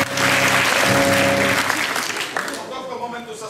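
A stage audience breaks into loud, dense clapping that keeps going throughout. Voices and tonal sound from the stage overlap it early on, and the applause thins slightly toward the end.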